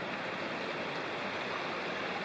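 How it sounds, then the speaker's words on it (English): Coker Creek flows gently beside a trail, a steady, even rushing of water over rocks, close and continuous with no voices. "And here's Coker Creek."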